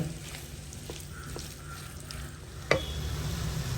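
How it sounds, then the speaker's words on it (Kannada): Ingredients for potato kurma fry in a pan with a soft steady sizzle, stirred with a few light utensil taps and one sharper knock against the pan, fairly faint and close. "ಈಗ ಎಲ್ಲವನ್ನ ಫ್ರೈ ಮಾಡ್ಕೊಳ್ಳೋಣ"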